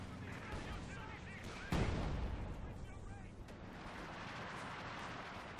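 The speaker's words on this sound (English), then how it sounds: "that was a nice barrage, doing quite a bit of damage" Heavy artillery barrage in the Company of Heroes 2 game: continuous dense booming and crackling gunfire with a sharp, loud blast hitting near the middle, layered over constant battlefield rumble, with commentary running throughout.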